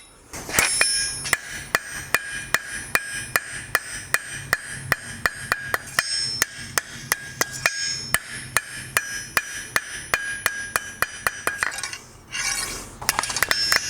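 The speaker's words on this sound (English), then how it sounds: "I'm just simply using the edge of the anvil and the hammer." Steady, evenly spaced ringing hammer blows on steel against an anvil edge while scrolls are bent for forged art deco bookends, loud and close, a few dozen strikes, then a brief scraping pause before the blows resume.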